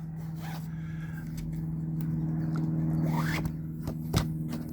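Curtain being swished along a plastic curtain rail inside a De Wit Vis a Vis canvas tent: a close, soft sliding rustle and scrape lasting several seconds over a low steady hum, with a few small clicks.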